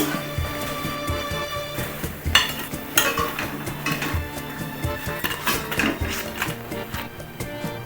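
Fried bottle gourd leaf and masoor dal patties are lifted out of a frying pan, bringing repeated metallic scrapes, clinks and knocks of a utensil against the pan over a faint sizzle.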